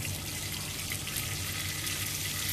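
Cumin and mustard seeds sizzling in hot oil for a split moong dal, a dense, steady crackling hiss heard up close without pause or voices.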